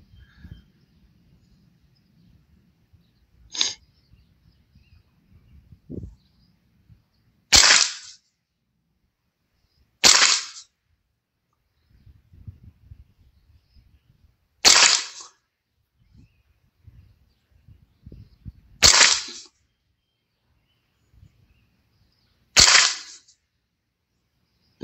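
Six sharp, close cracks from a Ruger 10/22 carbine firing Norma Tac22 40gr ammunition at 50 yards, spaced several seconds apart; faint rustling and handling noise fill the gaps between shots.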